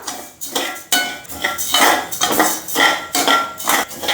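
Raw rice dry-roasting in a pan over low heat, stirred so the grains rattle and scrape against the metal in quick, rhythmic bursts, loud and close.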